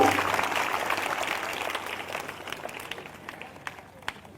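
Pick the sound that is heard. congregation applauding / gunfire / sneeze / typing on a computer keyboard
congregation applauding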